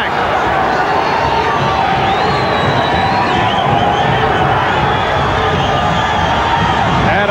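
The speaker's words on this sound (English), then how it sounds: "the crowd getting behind the hometown favorite, Frankie Warren" A boxing arena crowd roars steadily for hometown fighter Frankie Warren against Buddy McGirt, a loud continuous wall of cheering and shouting with a commentator talking over it.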